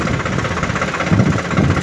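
A Swaraj 744 tractor loaded with a heavy load of sand idles close by, its diesel engine giving a steady, loud low rumble with slight pulsing throughout and no voices.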